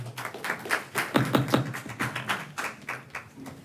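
Scattered, uneven clapping from a small crowd at an Easthampton city council meeting, with distinct individual claps in loose bursts rather than a full ovation.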